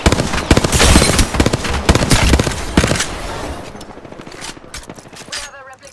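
Rapid gunfire crackles in a ranked online shooter match, with dense bursts of shots and impacts, then fading into scattered pops and game sound effects.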